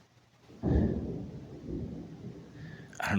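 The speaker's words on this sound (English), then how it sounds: "I don't know if you could hear the thunder in the background" Loud, deep rumbling thunder from a severe summer storm rolls for over two seconds, swelling and fading in long low waves, then breaks into a sharper crack at the end.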